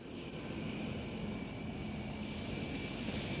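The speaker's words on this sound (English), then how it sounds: "When the planes land and take off, the hares career around the airport as if they're trying to race them." Airplanes at an airport, a steady, distant engine roar with a continuous drone that holds level throughout, no voices.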